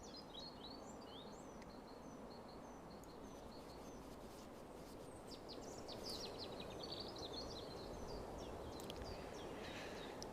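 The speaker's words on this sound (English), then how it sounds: "This is maximum bird noises." Chirps, trills and tweets from the Wingspan board video game at full volume, a busy layer of small bird calls over a steady quiet hiss, fairly faint overall with no speech.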